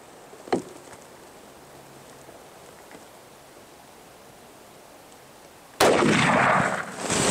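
A single rifle shot at a target, from either a 30-06 or a 7mm PRC, sounds as one sharp report near the start, then quiet background until a sudden loud burst of noise at the end.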